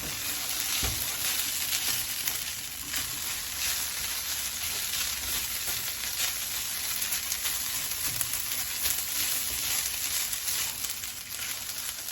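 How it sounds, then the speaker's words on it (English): Pork sizzling in a stir-fry pan as it cooks through, a steady, dense crackle that runs close and unbroken the whole time, with no one talking. "So we're just going to cook this until that pork is cooked through."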